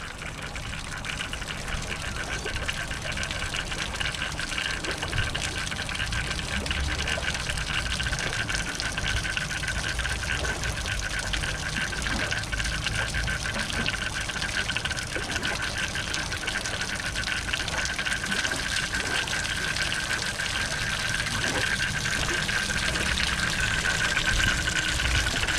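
Water steadily pouring and gushing out of a Sea-Doo jet ski hull, a continuous rushing drain flow with a faint motor or pump hum beneath, sustained without talk for the whole stretch.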